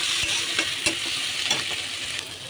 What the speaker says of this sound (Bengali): আমি এটা পেঁয়াজটা ভালো করে ফ্রাই করে নিয়েছি